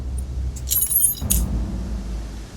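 Keys jangle in the mystery game Contradiction: Spot The Liar, a bright metallic rattle in two quick bursts close to the listener over a low steady hum, then only the quiet background.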